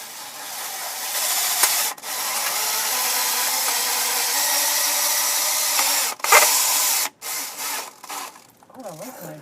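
A drill in first gear slowly drives a bolt into a window well cover, whirring steadily for several seconds, then briefly stopping and restarting in short bursts near the end.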